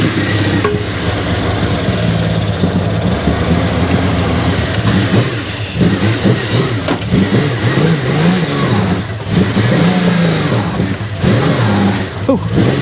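A vehicle's engine revs hard as it is driven ahead, sinking deeper into soft ground. The steady, strained roar rises and falls for the whole stretch while a voice speaks occasionally.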